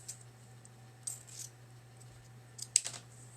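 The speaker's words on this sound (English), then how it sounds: "I'm just going to cut it. Probably going to cut a couple pieces from each" A few faint, sharp snips from scissors cutting ribbon into pieces, spaced out over a quiet room with a steady low hum beneath.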